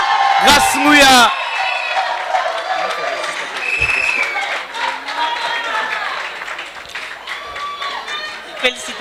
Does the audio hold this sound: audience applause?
yes